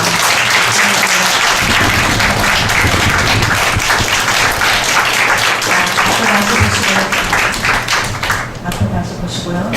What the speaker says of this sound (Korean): 축하로 박수 주시기 바랍니다